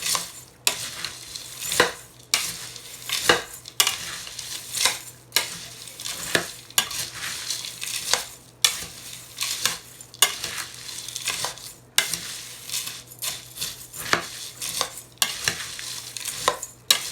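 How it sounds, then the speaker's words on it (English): A nut and fruit granola mixture being stirred in a bowl, with repeated rhythmic scraping sweeps about every second or two and occasional utensil knocks, close and clear, with no speech. "And then we want to stir."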